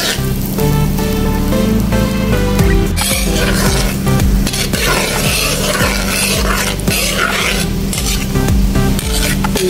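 A kilo of chicken sizzling loudly in melted butter with garlic, stirred steadily in a pan, constant crackling fry with scraping utensil strokes throughout.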